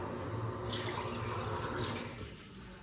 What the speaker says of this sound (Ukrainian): І сюди нам треба набрати ще е, водопровідної води.